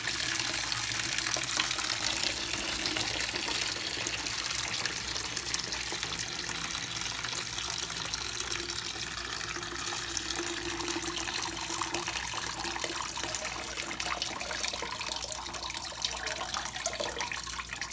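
Aquarium tank water poured from a container into an Aqueon QuietFlow filter, a steady broadband splashing gush running close and continuous throughout, with no voices.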